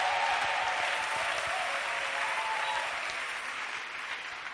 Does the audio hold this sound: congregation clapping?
yes